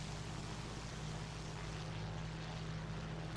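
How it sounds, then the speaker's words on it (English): A steady propeller-engine drone with a sustained low hum, continuous and fairly distant, like an aircraft passing overhead in the War Thunder video game; no voices. "No, there's a plane up."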